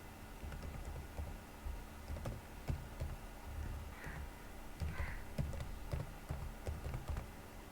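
Someone types on a computer keyboard while filling in an online scholarship application form, producing quiet, irregular clicks and keystrokes at close range against a soft background hum, with no talking.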